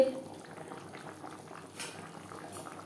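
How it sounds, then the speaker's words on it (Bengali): Gravy for a young-jackfruit and prawn curry simmering in a pan: quiet, steady bubbling and soft popping at a close distance, fairly faint throughout. "গ্রেভি বেশ ভালো করে ফুটতে শুরু করে দিয়েছে"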